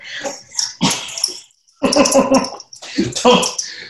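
A small dog barks in quick, sharp bursts close to the microphone, three clustered volleys separated by brief pauses.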